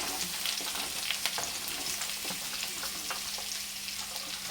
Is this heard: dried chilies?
yes